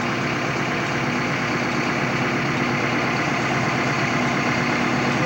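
A tractor engine drones steadily from inside the rear tractor of a road caravan travelling from Pella to Monroe, a loud, constant broadband rumble with no talk.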